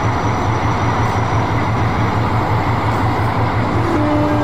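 The KA Pandalungan passenger train rolls in behind its locomotive, a steady loud rumble with a regular rhythmic clatter of wheels over rail joints, and a brief tonal squeal near the end.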